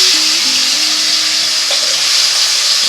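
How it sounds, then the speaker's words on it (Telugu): Taro root pieces dropped into hot boiling oil, a dense continuous hiss and sizzle, loud and close, with a faint low hum underneath throughout. "నూనె అయితే మరిగిపోయిందండి. ఇవి వేసేస్తున్నాను."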